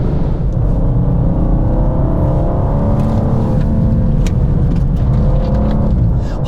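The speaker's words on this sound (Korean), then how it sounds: "스로틀을 깊게 밟을 때는 뭔가 탱크가 진군하는 것 같은 그러한 낮고 고요하면서도 뭔가 묵직함이 있는 그런 두둥거림을 실내로 굉장히 많이 사운드를 보내줍니다" BMW M2 engine rumbling low and heavy under hard acceleration, a steady dense drone heard from inside the cabin with no talk.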